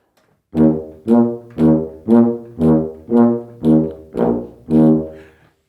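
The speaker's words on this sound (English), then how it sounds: "We call those sousaphones, and we usually play music that sounds like this." Deep sousaphone bass notes pulse in a steady oompah march pattern, eight or nine separate honking tones, each swelling then cut off, played alone.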